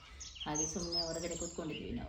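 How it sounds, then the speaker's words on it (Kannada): Birds chirp and tweet outdoors in repeated short calls mixed with a faint high trill, sitting under a nearby voice that talks through most of the moment. "ಫುಲ್ಲು ಬರ್ಡ್ಸ್ ಇತ್ತು, ಸೌಂಡ್ ಕೇಳ್ತಾವೆ."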